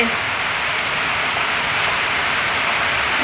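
Heavy monsoon rain pours down steadily in a village, a dense, unbroken hiss of falling water close by with no pauses.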